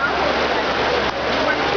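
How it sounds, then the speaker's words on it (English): Pouring rain at Disney MGM Studios splashes and roars in a thick, constant wash, near and loud, with a brief dip midway and faint voices beneath the noise. "It's pouring outside."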